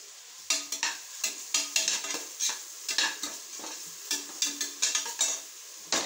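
Onions frying with ginger garlic paste for chicken biryani, rhythmic stirring with a metal spoon scraping the pan in repeated strokes over a soft background sizzle, close and clear.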